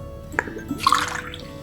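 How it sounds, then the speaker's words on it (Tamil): Water poured onto powdered herbal bark, ground by hand and in a mixer, for a traditional remedy: a short splashing pour with a brief drip beforehand, close and moderately loud, with no talking. "இதோட தண்ணீர் விட்டுக்கலாம்."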